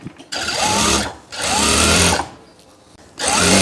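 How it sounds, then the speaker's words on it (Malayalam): An electric sewing machine stitching the bottom of a churidar pant runs in three loud, close bursts of rapid whirring, separated by short pauses. "ആ തയ്ച്ചതിൻ്റെ മുകളിൽ കൂടെ തന്നെ തയ്ക്കണം"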